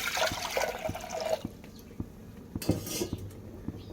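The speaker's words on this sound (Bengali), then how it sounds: "এবার প্রেসার কুকারে জল দিয়ে দিচ্ছি" Water pours in a steady rushing stream into a metal pressure cooker for about a second and a half, followed by scattered clinks and small splashes of utensils against the pot, nearby and fairly quiet.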